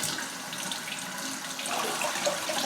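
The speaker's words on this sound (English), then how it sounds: "The aerial roots are getting another rinse so they can absorb water." Tap water runs steadily from a faucet as hybrid Phalaenopsis orchid aerial roots are rinsed at a sink, a constant close hiss and splash with a slight swell near the end.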